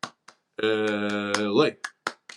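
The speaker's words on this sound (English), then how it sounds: "It's 8 clap time, baby." A few sharp, close hand claps come in quick succession around a sustained chanted call. The claps are brief and spaced unevenly, with a voice in between.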